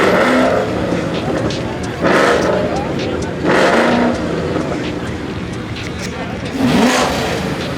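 A 2024 Ford Mustang GT engine revs in loud bursts at a car meet, roughly four surges over several seconds, with a steady rumble and chatter of voices between them.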